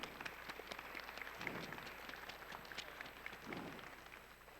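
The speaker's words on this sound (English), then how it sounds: "Let's give them a big round of applause for their dedication." Applause from a crowd at an FTC robotics award ceremony in Mishawaka: faint, steady clapping of many hands heard from a distance, with no talking over it.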